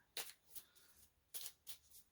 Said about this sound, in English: Go ahead and shuffle here.